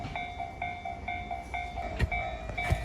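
A Keihin-Tohoku line train at a railroad crossing in Japan: a crossing signal rings in a steady repeating pattern while the train rumbles past with a few heavy wheel thumps, and no one talks.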